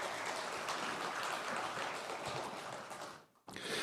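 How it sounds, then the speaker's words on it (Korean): Applause from a church congregation for the children, a soft, steady patter of many hands clapping at a distance that fades out near the end before a brief new burst. "우리 귀한 아이들에게 응원과 격려의 박수를 좀"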